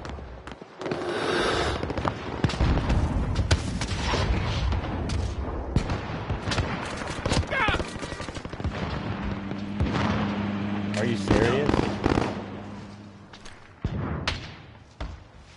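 Gunfire rattles through a round of the video game Warzone: dense bursts and loud booms with thuds and impacts, and voices talking over the shooting in places.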